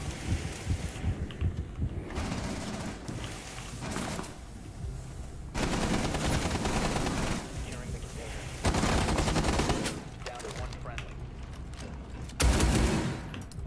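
Sustained automatic gunfire and explosive blasts in the video game Rainbow Six Siege, played as Maverick, dense crackling bursts of varying loudness over about fourteen seconds with no talking.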